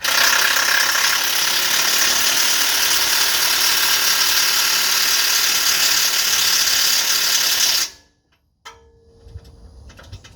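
A ratchet tightening a suspension bolt on a 2010 Range Rover during air suspension work, a loud continuous whirring rattle for about eight seconds, then a sudden stop and quiet workshop sounds.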